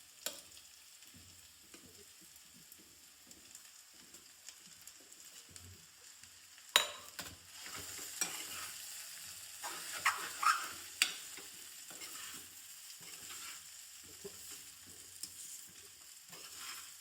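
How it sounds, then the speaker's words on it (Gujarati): Soaked poha is stirred in a pan for batata poha, with soft scraping and light sizzling at a low level. Faint stirring comes first, then a slightly busier stretch of scrapes and clicks. "સારી રીતે આને મિક્સ કરવાના રહેશે."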